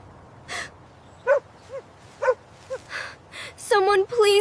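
A dog in front of a frightened person gives a series of short yips and barks that grow into louder, longer whining barks near the end, close and alone with no talk.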